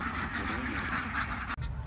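Ducks quacking beside a duck house on a farm, a continuous chorus of quacks with a brief break near the end.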